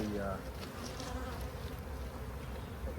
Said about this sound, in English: Tons of bees on it.